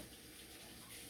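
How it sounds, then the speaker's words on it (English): Tap water runs steadily into a sink while hands are rinsed, a continuous soft splashing hiss, close but faint, with no voices. "I'm going to rinse my hands quick."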